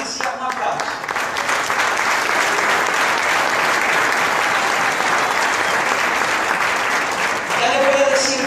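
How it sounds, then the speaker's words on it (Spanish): Church congregation breaking into sustained applause after a dance performance, a full, steady roar of many hands clapping for several seconds before a voice returns near the end. "La hermana Patricia, un aplauso."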